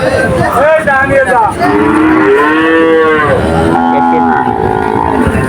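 A distressed, panting cow at the Shahpur cattle market moos loudly and repeatedly nearby, long drawn-out lowing calls following one another with a faint murmur of a crowd behind.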